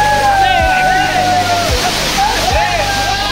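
Water of a rain-fed waterfall splashing and churning into a pool, a loud, close, continuous roar and slosh with a person talking over it.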